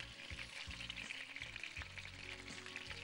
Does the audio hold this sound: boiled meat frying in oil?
yes